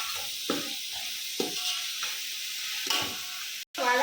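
Onions and tomato sauté in a pan, a soft continuous sizzle broken by several scraping stirs of a spoon, close and with no talk.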